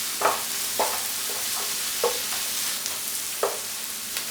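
Onions browning in a pan for a chicken curry pie, stirred with a spoon that scrapes and knocks at irregular intervals over a steady quiet sizzle.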